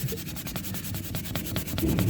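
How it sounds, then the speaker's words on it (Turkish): Steady scratchy rubbing of sandpaper against a Toyota Corolla dashboard surface, with short repeated strokes, close and moderately loud. "Şimdi şöyle zımpara yapıp aslında yüzeyi biraz eskitmek istiyorum"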